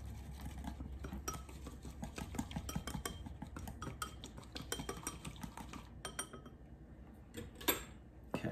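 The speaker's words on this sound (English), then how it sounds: "you're just going to stir this up real good" A pinch of salt stirred into a mixture, faint continuous clinking and scraping of a spoon against a bowl with a sharper knock near the end.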